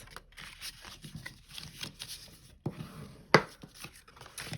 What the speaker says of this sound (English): you are going to burnish them with a bone folder